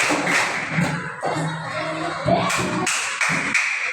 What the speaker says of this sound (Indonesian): tepuk satu kali, tepuk satu kali, tepuk dua kali